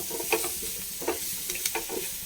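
Spice powders frying in a pan for cauliflower masala, a close, continuous sizzle broken by a few soft stirring scrapes over a short span.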